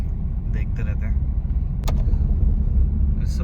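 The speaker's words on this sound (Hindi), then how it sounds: "इस समय गाड़ी का मूवमेंट तो काफ़ी ज़्यादा रहता है" Passing cars and engine rumble on an evening road through Pilibhit Tiger Reserve during a night drive, a steady low drone near the microphone, with a brief sharp noise partway through and faint voices.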